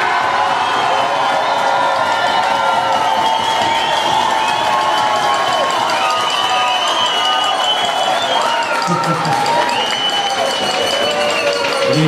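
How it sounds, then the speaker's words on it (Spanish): A crowd at a dinner event claps and cheers with loud, sustained applause mixed with shouts and excited voices for the whole stretch. "Aplauso para Capelina."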